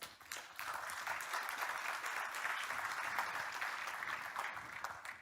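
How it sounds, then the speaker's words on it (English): An audience at a circular-economy conference on electronics claps in sustained applause, many hands forming a dense, even patter that holds steady for several seconds before tapering slightly at the end. "A round of applause, please."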